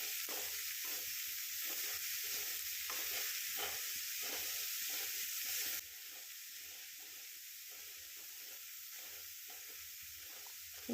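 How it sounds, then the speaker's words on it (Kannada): Chopped carrot and beetroot frying in a pan, a continuous bright sizzle with soft repeated stirring, steady and close, slightly quieter in the second half. "ಕ್ಯಾರೆಟ್ ಮತ್ತು ಬೀಟ್ರೂಟನ್ನು ಹಾಕಿ ಇದನ್ನು ಸ್ವಲ್ಪ ಫ್ರೈ ಮಾಡ್ಕೊಬೇಕು"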